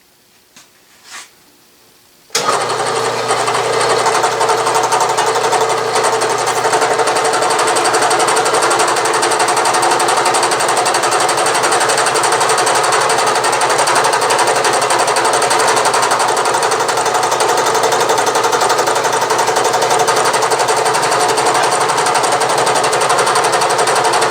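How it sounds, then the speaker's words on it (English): A Bridgeport milling machine runs a form cutter through a gear blank with conventional milling, a loud, steady grinding whir that starts abruptly after a brief quiet moment and continues unbroken. "I am cutting by conventional milling. You do not want to climb mill with these form cutters."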